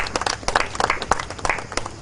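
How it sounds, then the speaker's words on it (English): An audience claps for a guest speaker at a forum on domestic violence in Uganda, with a short burst of dense, close applause from a room of people. "let's also clap for you"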